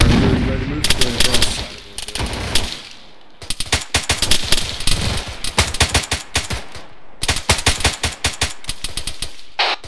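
Rapid automatic gunfire in an ARMA 3 firefight crackles in loud, close bursts, with dense rattling volleys, a brief pause near three seconds, then more sustained strings of shots.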